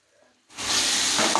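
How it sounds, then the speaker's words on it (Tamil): Spice powders hit hot oil in a pan for a South Indian fish curry, giving a sudden loud sizzle that follows a quiet moment and keeps hissing steadily. "மசாலாஸ்லாம் ஆட் பண்ணி நல்லா வதக்கிக்கலாம்"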